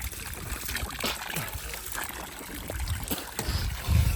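Cold mountain water runs continuously from a pipe in the Sikkim hills, a steady close trickle and splash with small gurgling bursts near the end.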